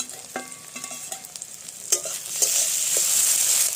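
Onion and garlic frying in a pan with ground ginger, cumin, black pepper, dried chilli and coriander pastes, a steady close sizzle with scattered stirring clinks and scrapes that grows louder and hissier toward the end.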